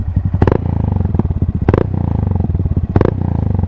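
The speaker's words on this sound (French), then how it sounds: "donner des petits coups de gaz et que ça pète" Honda MSX 125 single-cylinder engine idling with a steady low thump, broken by three sharp throttle blips that each end in loud popping crackles from the exhaust, spaced about every 1.3 seconds.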